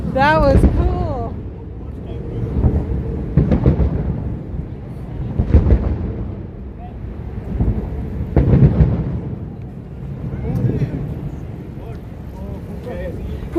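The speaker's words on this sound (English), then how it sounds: "I think we have thunder" Thunder rumbles in deep rolling swells during an outdoor army anniversary parade, several long booms rising and fading across the stretch while people talk and cheer over it.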